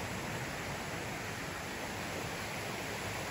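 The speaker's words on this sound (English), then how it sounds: "But I love the sound of the water." Water in a creek rushes steadily along a walking path in a park, a dense, continuous broadband wash that sounds close and fairly loud with no pauses or talk.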